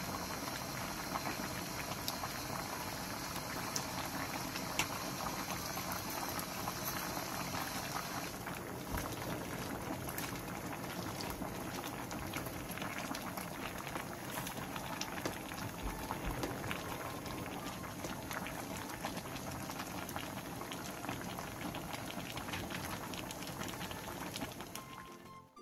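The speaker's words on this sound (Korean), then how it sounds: "대파를 넣고 5분 정도 더 끓여 마무리해주세요" Soup of sweet potato stems and aged kimchi with green onion, chili and perilla oil bubbling away in a pot, a steady close boiling burble with popping bubbles that runs unbroken and without talk.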